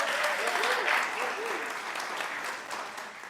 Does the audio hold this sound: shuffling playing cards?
no